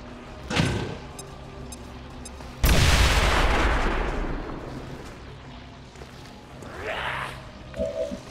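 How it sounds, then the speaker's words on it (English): A grenade explodes in XCOM 2 War of the Chosen with a sudden loud boom that rolls off into a long rumbling decay, preceded by a softer thump and followed by smaller game effects. "Throwing grenade! So let's get the fireworks going."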